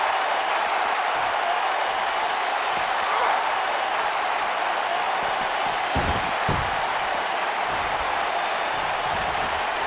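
Crowd roar from a televised wrestling arena in the AEW 2K19 video game, a steady broad wash of cheering and applause that runs the whole time, with a few louder swells near the middle.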